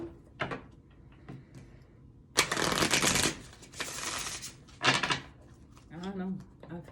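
A deck of tarot cards is shuffled close by: scattered small riffles, then two long, loud papery bursts of shuffling, with a person talking in between.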